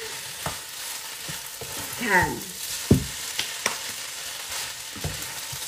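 Fried rice sizzles and crackles steadily in a hot pan, with occasional scraping and clanking of a spatula stirring; a brief spoken word passes.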